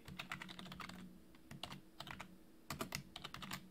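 Fingers type on a computer keyboard while entering database code, with quick bursts of clicky keystrokes separated by short pauses, close and quiet with no voices.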